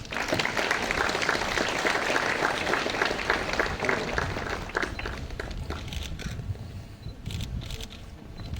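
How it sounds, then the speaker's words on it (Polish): Audience applause at the opening of a medical centre, with a crowd clapping briskly at first and then thinning into scattered claps and a few taps over roughly nine seconds. "Enusz, duże podziękowanie, duże brawa dla Ciebie."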